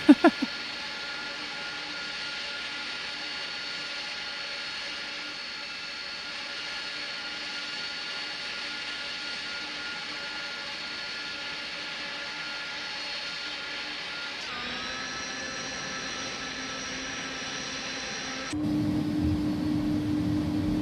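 A DHL Airbus A300 jet taxiing in the X-Plane 11 flight simulator gives a steady whining engine drone with constant tones, which shifts pitch near the end and then turns into a rougher, louder rumble.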